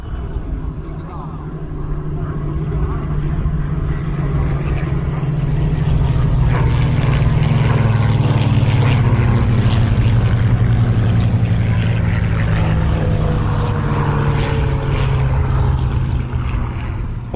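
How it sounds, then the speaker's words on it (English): Three Spitfire Mk IA fighter planes fly past at an air show, a loud, steady propeller-engine drone that swells and holds for the whole stretch with a wide rumble, no talk over it. "now we're able to present 3 Spitfire 1As, and here they come from the left"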